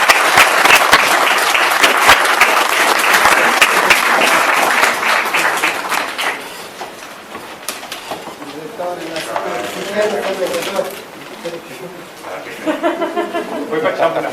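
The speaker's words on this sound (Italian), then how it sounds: "Facciamo un applauso per noi tutti" Applause from the audience at a doctoral thesis defense in social communication, loud and dense for about six seconds, then thinning to scattered claps and chatter from people talking in the room.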